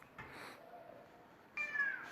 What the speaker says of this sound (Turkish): Kedimiz herkesin evde karantinada olmasından hoşlanmadı.